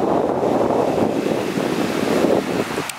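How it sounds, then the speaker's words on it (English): Ocean surf rolls onto a beach in Tulum in a steady, loud wash of waves, with strong wind buffeting the microphone throughout and no voices. "That's the beach now."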